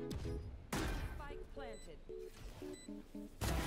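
A grenade detonates in the tactical shooter Valorant amid other in-game gunfire and explosion bursts, with a loud blast near the start and another at the end, while a person talks over the game audio.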